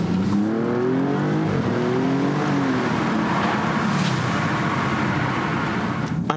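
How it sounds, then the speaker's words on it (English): An Alfa Romeo Giulia Quadrifoglio engine drones steadily with rising and falling exhaust tones as it accelerates, heard continuously from close by inside the car with the window down, with road noise underneath. "See if I can hear some of that lovely exhaust note."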